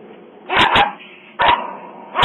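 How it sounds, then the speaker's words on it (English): A poodle and a German Shepherd bark outside in the cold, giving a few loud, close barks in two separate bursts with a quiet gap between them. "Little Poodle's keeping a big German Shepherd at bay."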